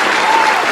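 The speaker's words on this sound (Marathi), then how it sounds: "जोरदार टाळ्या होऊन जाऊ दे" A short, loud burst of audience clapping greets a performer at a Marathi comedy show, a thick, even crackle of many hands.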